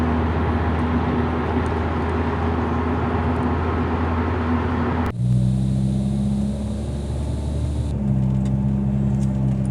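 A Saab with its muffler deleted cruises at about 75 mph on the highway. A continuous exhaust drone blends with road rumble, and the tone shifts audibly partway through.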